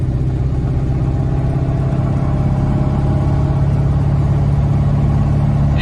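A Brazilian Puma 1600 GTE sports car's engine drones loudly and steadily from inside the cabin, a constant low rumble with a faint clattering edge and no speech.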